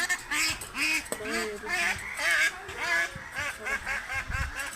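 A flock of more than five hundred farm ducks quacks continuously in repeated overlapping calls, loud and close, with a voice speaking over part of the din.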